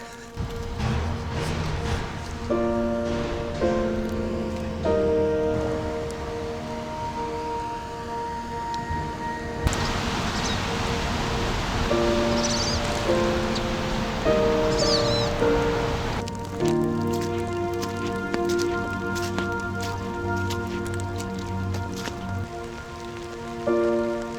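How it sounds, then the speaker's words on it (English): Rain falls outdoors on a wet day near a monument, a continuous patter that swells into a heavier, hissing downpour midway and is mixed with steady tonal sounds. "I guess the rain isn't stopping today."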